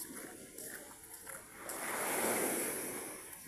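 Sea waves wash onto a sandy beach at Santa Cruz, a soft distant surf with wind, one wave swelling and receding midway.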